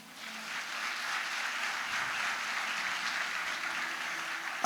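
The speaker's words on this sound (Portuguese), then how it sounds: "Você é jovem, vamos aplaudir o Tadeu?" A church congregation applauding a young man called Tadeu: a steady, even wash of many hands clapping at a moderate distance, continuous throughout with no voices on top.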